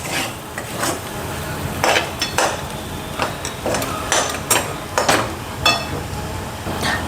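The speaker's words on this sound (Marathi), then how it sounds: "एकदा आपण सराट्याने हलवून घेऊ असं." A spatula stirs salted food in a metal cooking pot, giving repeated close scraping clinks and knocks at an uneven pace with no talking.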